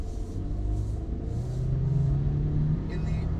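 A 2019 Chevrolet Silverado LT 4x4 pickup with a 2.7-liter turbo four-cylinder gives a steady low engine rumble from inside the cab, rising slightly in pitch as it accelerates, while someone talks over it.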